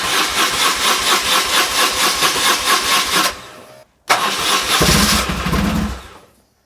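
An engine on a small ASMAX compressor that has sat unused for a while is cranked in two loud, rhythmic bursts of chugging turnover. A brief silence separates them, and the second attempt fades away at the end.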